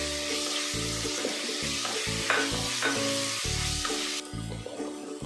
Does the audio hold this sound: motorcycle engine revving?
no